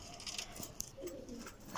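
Racing homing pigeons on a rooftop loft cooing softly, faint and intermittent, with birds fluttering and shuffling close by.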